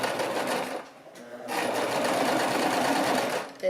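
A sewing machine runs a straight seam on fabric for a baby romper, a fast steady motor whir with one short pause before it resumes and then stops.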